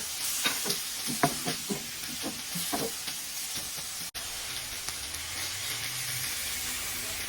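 Browning pork sizzles steadily in a pan with black pepper, a continuous close hiss with occasional stirring scrapes and no talk.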